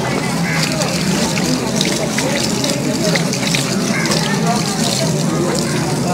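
Water drains out with a steady, loud gushing rush that continues throughout, with voices talking underneath.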